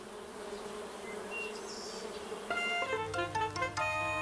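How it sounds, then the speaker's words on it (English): Cartoon beehive holding thousands of bees gives off a steady, moderately loud insect buzz, with a brighter, fuller droning swarm swelling in after a couple of seconds; no talking. "Actually, thousands of bees live in there. Listen carefully and you can hear them."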